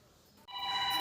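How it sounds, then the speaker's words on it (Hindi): A telephone starts ringing indoors partway through, a bright electronic tone that holds steady after a faint murmur of background sound. "ये फोन आ गया"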